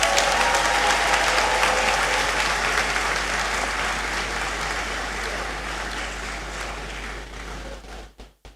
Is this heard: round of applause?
yes